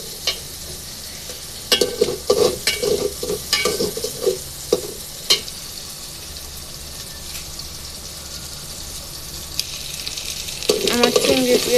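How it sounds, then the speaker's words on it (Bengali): Prawns and onion frying in oil in a pan for a Malabar spinach curry, a low sizzle under frequent stirring clatters that thin out midway, then build again as the frying grows louder. "এখন চিংড়ি পেঁয়াজটাকে একটু ভেজে নিব।"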